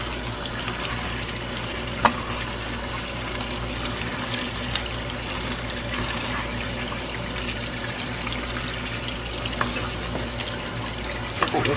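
Water runs steadily from a kitchen tap into a sink while bok choy is rinsed, a continuous rushing hiss with a few faint clinks and knocks, close and unbroken, no voices.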